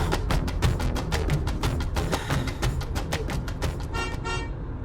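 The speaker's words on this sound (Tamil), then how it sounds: "இது என்னது? ஹாரன்." A car horn honks during a driving lesson on the road, a bright tooting that keeps sounding steadily and fairly loud over the hum of the vehicle for nearly five seconds.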